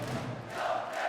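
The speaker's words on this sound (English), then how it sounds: "The crowd are chanting his first name" A large handball arena crowd chants a goalkeeper's first name in unison, a loud, dense roar filling the hall at a European championship match between Poland and Sweden.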